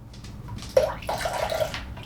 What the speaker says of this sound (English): A splash of some apple cider vinegar.